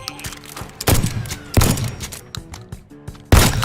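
Gunfire from a PlayStation 4 shooting video game: several loud, sharp shots and bursts in irregular succession, each with a booming low thump and short decay, close and prominent with no talk.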